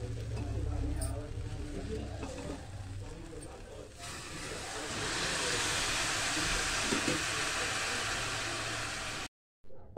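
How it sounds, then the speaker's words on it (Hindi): Water pours into a pot of fried tehri in a home kitchen, a steady broadband rush that runs for several seconds and swells midway before cutting off near the end. Someone speaks over the low end early on. "अब इसमें हमको पानी मिलाना है।"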